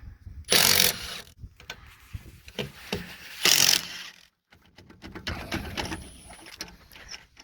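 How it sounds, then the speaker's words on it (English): Tools working to free a seized car wheel from its hub: loud bursts of rattling mechanical clatter with sharp knocks and clicks, close and uneven, with quieter metallic tapping between bursts. "going to take this wheel off and we're going to see how seized it is"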